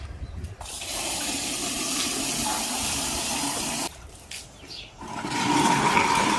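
Water gushing steadily from a tap or hose while washing a car outdoors, a continuous hissing rush that briefly cuts out midway, then returns louder with some clattering at the end.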